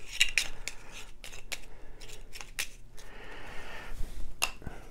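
Board game cards for Yamatai being shuffled together by hand, a run of crisp riffling snaps and papery slides repeating unevenly over several seconds, close and fairly quiet with no talking.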